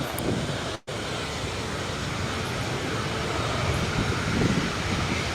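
A Cessna 560 Citation Ultra jet at an airport produces a steady, broad engine roar that holds loud throughout, with a brief dropout early on.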